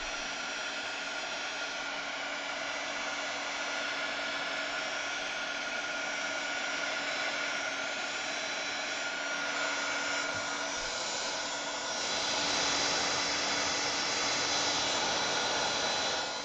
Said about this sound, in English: so now I am going to hit this with the heat.